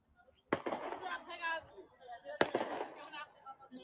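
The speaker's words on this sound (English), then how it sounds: "Just now, and actually still going on, people are playing firecrackers." Firecrackers going off in a village with ornate ancestral temples, two sharp cracks each trailed by crackling bursts, under someone talking.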